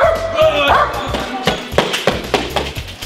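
A dog barks and whimpers during executive protection training, giving a run of sharp, loud, close yips and barks with whiny cries between them, while a handler speaks.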